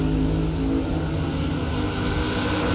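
Drag racing cars launching side by side at a bracket race, one pulling a big wheelie, a loud sustained engine roar at full throttle throughout with no speech.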